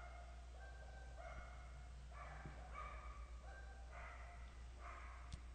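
A dog gives a series of short, faint barks in an irregular rhythm, heard at a distance over a low steady hum.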